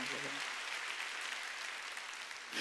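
Church congregation clapping during a Korean Wednesday worship service, a continuous dense wash of many hands at an even level throughout, with a brief voice at the very start.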